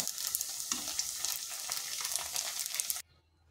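Homemade paneer made from papaya without milk sizzles steadily in hot oil, a dense continuous frying crackle at close range that cuts off abruptly near the end, leaving near silence.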